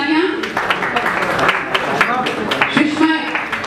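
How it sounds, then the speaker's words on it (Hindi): Loud clapping from an audience at an inspirational award ceremony, sharp irregular claps spread through the clip alongside a speaking voice. "एक बार जोरदार तालियां।"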